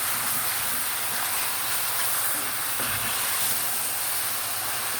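Meat for kavurma sizzling steadily in a hot pan, a continuous close, loud hiss and crackle with no talking.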